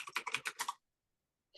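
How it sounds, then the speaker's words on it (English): Typing on a clicky computer keyboard gives a quick burst of about eight sharp, close keystrokes, then a pause before another key press starts. "Sorry, my keyboard's so clicky."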